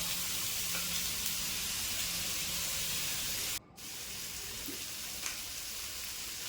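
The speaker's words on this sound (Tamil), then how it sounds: "கொஞ்சமாக கருவேப்பிலை போட்டு நல்லா வதக்கி விட்டுடலாம்." Green chillies and curry leaves sauté in a pan with a steady, soft hiss. A brief dip near the middle may be stirring, and no one speaks.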